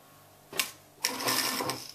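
A sewing machine stitching a concealed buttonhole placket with lining fabric, two short bursts of fast mechanical whirring, the first brief and the second running about a second, close and fairly loud.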